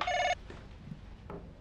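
A telephone ringing, a bright electronic ring burst at the start that cuts off abruptly, followed by faint handling noises and room sound.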